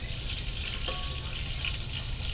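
Oil crackles steadily in a pan while tempering for pav bhaji, a dense continuous fizz with no one speaking.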